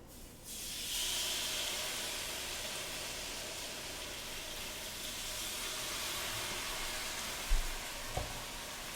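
Salmon is pressed skin side down onto a hot panini press, setting off a steady, even searing hiss that starts abruptly and holds quietly, broken near the end by a couple of soft thumps.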